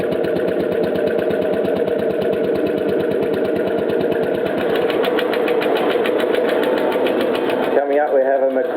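A Kelly and Lewis KL Bulldog tractor engine from Melbourne runs loud and close with a rapid, even thumping beat that holds steady, then shifts character near the end.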